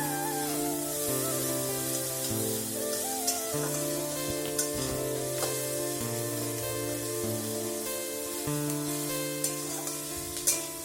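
Corn fries in a pan with a soft, continuous sizzling hiss, partly covered by steady background music.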